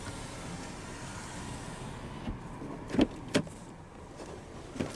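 Driver's power window of a 2012 GMC Acadia Denali lowering inside the cabin, a faint motor whir under quiet car ambience, followed by a few soft thumps and clicks.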